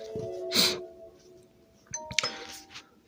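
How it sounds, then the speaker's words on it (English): A phone chime rings out softly during a Bible talk. A bright ding stands out, a second quieter chime follows, and faint sustained tones hang beneath. "Phone had a chime on that."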